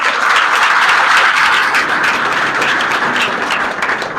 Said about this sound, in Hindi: चलिए इनके लिए ताली बजाइए सभी लोग।